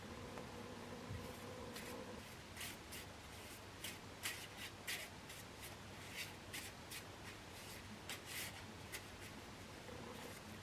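A deck of cards being shuffled at close range, a series of quiet riffling and rubbing bursts in an irregular rhythm over a low steady hum.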